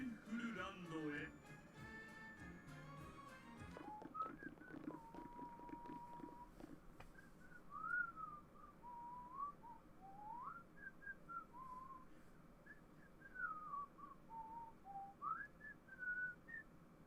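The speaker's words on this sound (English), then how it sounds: "What was he whistling?" A game character in Twisted Wonderland whistles a wandering melody in clear, sustained notes, preceded by bright musical game sounds and steady background noise beneath.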